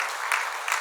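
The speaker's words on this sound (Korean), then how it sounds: "우리 박수로 또 축하하도록 하겠습니다" A church congregation claps in celebration, a brief, dense burst of applause at steady loudness.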